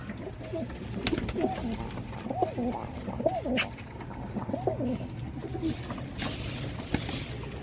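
Blue pigeons coo in soft repeated throaty phrases, a pair and several birds close by, with someone talking over them throughout.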